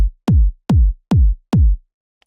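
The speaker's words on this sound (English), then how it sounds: "I created a very basic kick. It's almost a pitched sine wave with a very subtle click on top of it." Synthesized trance kick drum built from a pitched sine wave with a subtle click on top, four loud, punchy, evenly spaced hits that each drop quickly in pitch, followed by silence.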